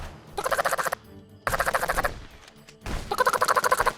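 Three bursts of rapid automatic gunfire ring out in the video game Contraband Police, each a quick rattling string of shots lasting about half a second to a second, with short pauses between them.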